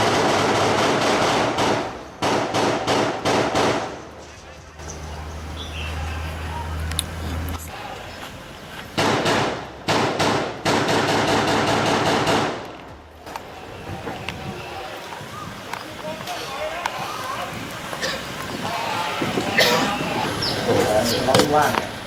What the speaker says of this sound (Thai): คนร้ายยิงสวนใส่เจ้าหน้าที่จนเกิดการปะทะขึ้นเสียงดังสนั่นหวั่นไหว